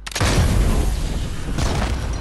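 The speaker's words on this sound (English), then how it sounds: "I'm just shooting my own cannon." In Fortnite, a cannon goes off with a loud, close boom that swells into a heavy rumbling blast, with a second surge of noise shortly after.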